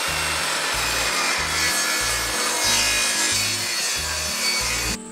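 A wooden board is hand-cut with a saw, about a dozen loud, close, rhythmic back-and-forth strokes in steady succession before the cut ends abruptly.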